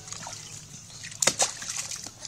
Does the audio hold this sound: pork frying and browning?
no